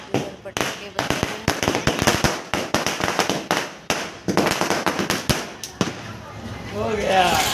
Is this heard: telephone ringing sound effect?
no